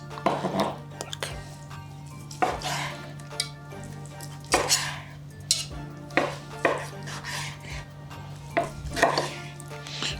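Fork and knife slicing a juicy meat roll cooked over coals, with scattered clinks and scrapes of cutlery on a plate and a faint steady hum underneath, no talk.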